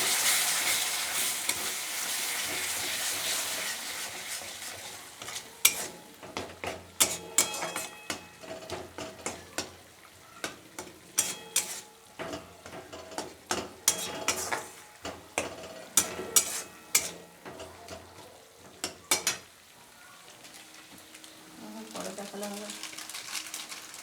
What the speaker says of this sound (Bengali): অল্প অল্প জল দিয়ে মশলাটাকে ভালো করে কষিয়ে নেব